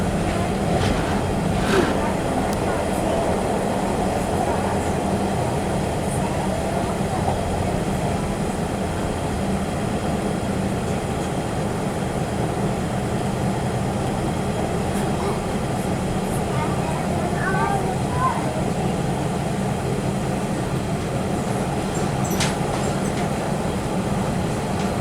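A train runs along the line on the approach to Saltburn, its steady rumble and rattle continuous throughout, with occasional faint squeals and clicks over the wheels.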